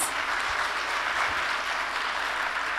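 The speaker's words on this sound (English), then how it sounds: "Can we hear a round of applause?" An audience at a panel discussion event applauds steadily, a dense wash of clapping heard from within the room, sustained at an even level from start to finish.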